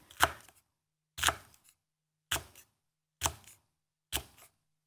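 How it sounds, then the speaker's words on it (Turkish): A knife chops peppers on a cutting board five times at a slow, steady pace, each stroke a crisp close thud with a short rattle after. "Hemen biberlerimi de biraz doğrayacağım."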